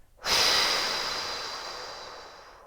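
One deep breath in through the nose followed by a long, forceful exhale through the mouth, a close, loud rush of air that slowly fades, as used for breathing through a contraction.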